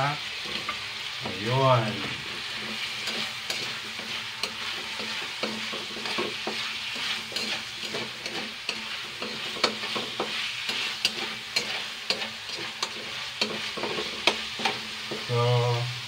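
Squash frying with ham in a pan, a continuous sizzle broken by steady scraping as the food is stirred, with a brief spoken word partway through.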